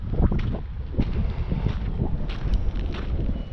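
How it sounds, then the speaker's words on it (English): Steady wind buffets the microphone on a winter beach in Kauai, a continuous low roar with gusty swells and no speech. "walking straight into wind."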